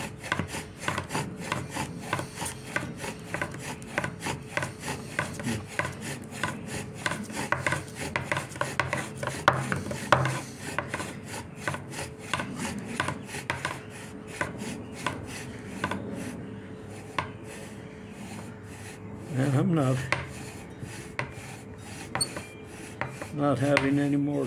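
A wooden spindle in a bow drill friction fire set grinds back and forth in a steady rasping rhythm, close and fairly quiet, with scraping strokes repeating and brief pauses near the end.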